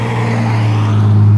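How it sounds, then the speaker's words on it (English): Road traffic passing right beside a roadside spot where a honey bee swarm is being caught, a loud steady vehicle drone that swells slightly as it goes by. "Sorry about the traffic, folks."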